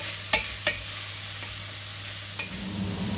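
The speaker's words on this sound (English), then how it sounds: "just cook and stir that for about 2 minutes" Cauliflower rice frying in hot olive oil gives a soft, steady sizzle, with a few sharp clicks of a utensil against the pan as it is stirred, and no one talking.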